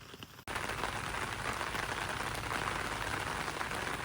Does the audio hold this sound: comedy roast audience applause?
no